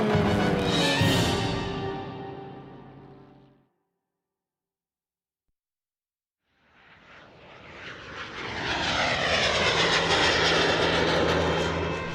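Droning engines of biplanes in flight, loud and sustained, fading out to silence for a few seconds before swelling back in as a steady roaring pass.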